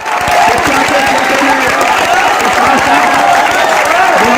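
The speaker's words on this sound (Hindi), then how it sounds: "ताली बजनी चाहिए।" An audience at a ceremony honouring a child in Bihar breaks into dense, sustained applause, many hands clapping at once over a low crowd murmur from start to finish.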